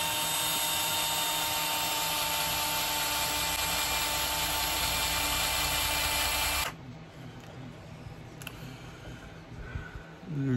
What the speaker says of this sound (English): Let's take it against the sanding pad.